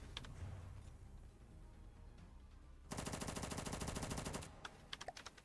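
Quad turret in the game From The Depths firing a dense, rapid burst of shots for about a second and a half, followed by a few scattered separate shots over a softer background of game noise.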